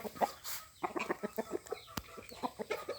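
Fighting roosters clucking in quick repeated bursts, close by, with a sharp thud partway through and some background noise.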